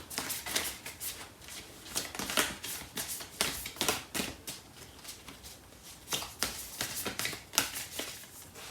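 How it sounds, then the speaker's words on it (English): Tarot cards are shuffled and one is pulled out, heard as close, quiet, rapid riffling snaps in irregular bursts throughout. "So I'm going to pull out a card for this other person, and for this overall connection."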